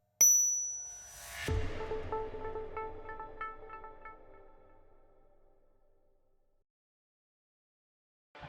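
A single bright bell ding rings out, followed by a struck chime that rings and slowly fades into silence.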